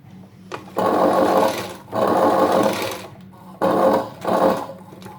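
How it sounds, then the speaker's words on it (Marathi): A sewing machine stitches a sleeve seam on a blouse in three whirring bursts of steady mechanical hum, with short quiet pauses between runs. It is close and clear. "ही साईडने आपण आता शिलाई मारूयात"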